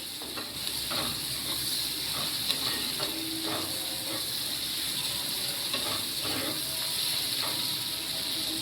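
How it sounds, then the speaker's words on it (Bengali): Onion frying in oil with a little turmeric in a home kitchen, giving a steady, even sizzle throughout with faint clicks and stirring scrapes. No one speaks. "এই তেল বেরোয় গেছে, এই তেলেই পেঁয়াজটা ভাজা হয়ে যাবে।"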